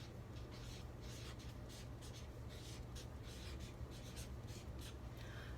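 Quiet scratching of a pen or pencil writing on paper, a series of short uneven strokes heard close up over a low background hum, with no talking.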